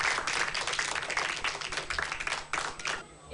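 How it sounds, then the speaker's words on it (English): Children in a classroom or studio audience clap together in a steady round of applause, dense and continuous at moderate loudness, with a brief dip near the end. "If you are happy, a round of applause for yourself."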